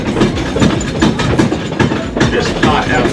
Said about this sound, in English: it's the same train and tracks you guys are riding on today